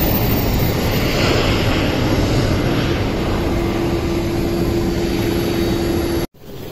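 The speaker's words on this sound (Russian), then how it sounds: "Аэропорт Пулково," Aircraft engine roar at Pulkovo Airport in Saint Petersburg, a loud steady broadband rumble with a faint sustained tone, continuous for about six seconds before cutting off abruptly.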